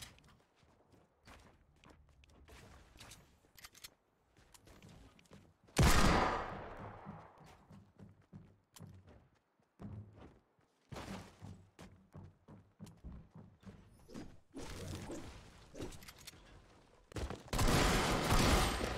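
Fortnite gunfire crackles in quick bursts and single shots, mixed with footsteps and thuds, mostly faint with a few louder volleys that stand out from the game's quieter moments.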